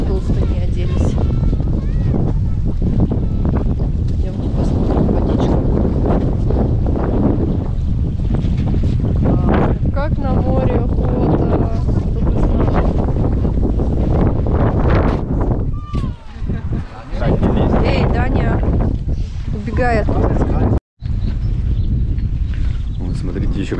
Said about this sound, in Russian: Жалко, что сегодня так сильно ветрено.